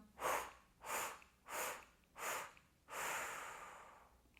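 A pregnant woman doing a breathing exercise takes deep, close breaths in a steady rhythm: four evenly spaced breaths followed by a longer, drawn-out exhale, quiet and alone.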